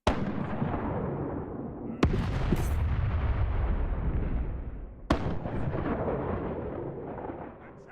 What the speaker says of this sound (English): I feel like shooting straw huts with a cannon.